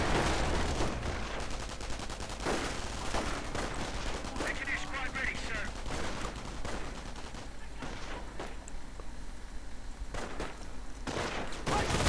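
Gunfire in a World War II strategy video game, including .30 caliber machine gun bursts, heard as repeated sharp shots and rattling volleys across a busy battle soundscape. A voice talks over the shooting.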